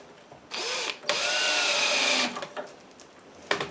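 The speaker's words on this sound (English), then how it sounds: "Get all of our screw holes going." A cordless drill bores screw holes in porch posts, a short whine followed by a longer steady high-pitched run, close and loud, then a brief burst, with no talking.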